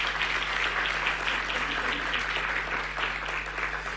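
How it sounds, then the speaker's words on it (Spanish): Audience applause fills a formal public-accounts ceremony of Chile's Ministry of Justice, a dense, steady patter of many hands holding an even level throughout, with a faint low electrical hum beneath. "yo les pido un aplauso"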